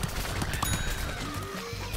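Rapid bursts of gunfire in the shooter game Plants vs. Zombies Garden Warfare 2, a loud, dense, crackling volley that runs steadily for about two seconds with no talk over it.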